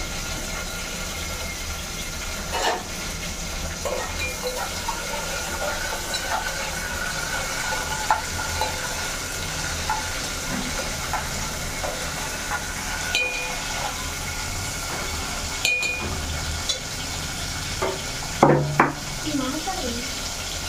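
Green chillies frying in a little oil in a pan, a continuous low sizzle with occasional stirring knocks and a few clinks against the pan, steady and close throughout, no voice.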